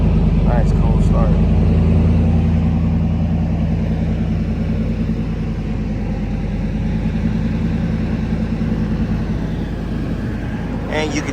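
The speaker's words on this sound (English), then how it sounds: "So when it's cold, you hear the freaking fan clutch all locked in." A cold V8 engine runs with its fan clutch fully engaged, a loud steady low rumble and whirring roar close by, with brief faint voices at the start and end.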